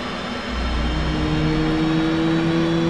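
Turbofan jet engine of an F/A-18C Hornet spooling up during startup in the DCS flight simulator, a steady rising whine and rumble growing louder over a few seconds, heard alone.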